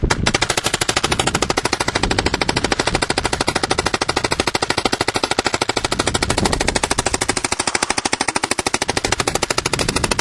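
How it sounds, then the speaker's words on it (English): A 2009 Proto SLG paintball marker with a 12-inch barrel fires in full auto, rapid continuous mechanical popping at a steady fast rate for the whole stretch, loud and close, with no pauses and no voices. "the gun is in NXL full auto, so we're just going to have the trigger held down"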